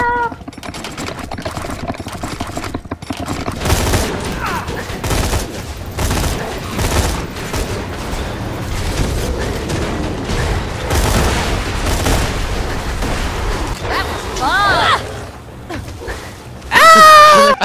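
Rapid SMG fire in Borderlands 2 gameplay, bursts of clattering shots layered with other game effects and chatter, loud and continuous through most of the stretch, with a sharper blast at the end.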